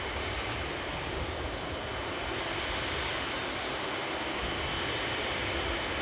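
A Saudi Boeing 787-10 Dreamliner airliner taxis past on the airport apron, its engines giving a steady, continuous roar with no talk.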